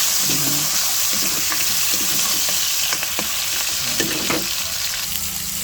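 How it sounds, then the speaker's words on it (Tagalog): Tomatoes fry in a pan with onions for pinakbet, a continuous close sizzle broken by a few utensil stirs and scrapes, no one speaking. "Lutuin pong maili ang kamatis para mas masarap"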